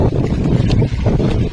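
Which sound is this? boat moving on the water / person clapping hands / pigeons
boat moving on the water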